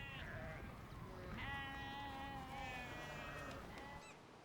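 Sheep bleating on a North Sea dike, several long wavering bleats overlapping one another, close and clear against a soft outdoor background, with no talking.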